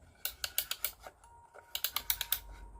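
A small drive mechanism from a tiny drive assembly clicks as it is wound tight, two quick runs of about five sharp ratcheting clicks each with a brief pause between, close and fairly quiet.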